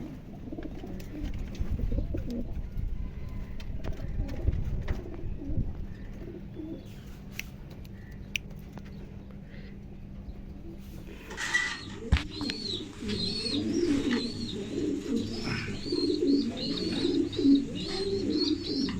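A silver-coloured racing pigeon of bolt bloodline giving repeated low cooing calls, close and clear, with quieter handling noises and background chatter in the first half before the coos become prominent.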